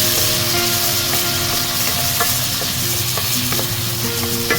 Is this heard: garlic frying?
yes